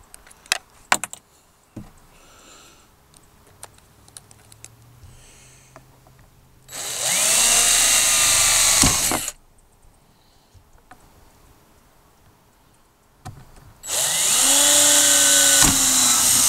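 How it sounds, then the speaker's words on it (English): A power drill with a small bit boring pilot holes for a kayak electronics mount, two loud sustained bursts of a couple of seconds each with whining motor pitch, separated by quieter handling noises. "drill some pilot holes."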